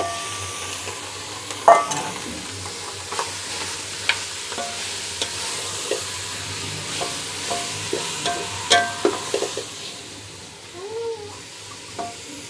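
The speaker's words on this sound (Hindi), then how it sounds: "इसको मैं हल्का सा भूनूँगी गरम मसाला डाल के" Beef mince frying lightly in a couple of spoons of oil with garam masala, a soft steady sizzle broken by scattered scrapes and taps of a spoon stirring it in the pan.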